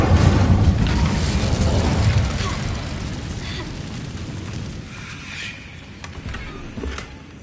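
A fire spell is cast in Hogwarts Legacy, and a whooshing, crackling burst of flame flares up at the start, then trails off into softer crackles and small pops as game sounds continue.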